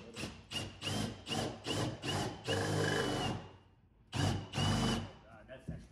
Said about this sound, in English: I need a half inch drill bit